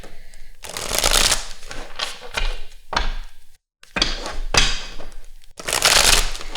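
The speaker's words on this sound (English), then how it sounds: "Let me give this a good shuffle." Tarot cards are shuffled repeatedly up close, several crisp riffling bursts separated by short pauses.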